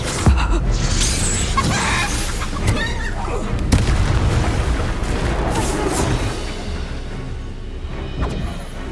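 Bombarda spell explosions in the Hogwarts Legacy video game, a loud dense wash of booming blasts and crashing debris with sharp impacts near the start and middle, fading into a rumbling tail.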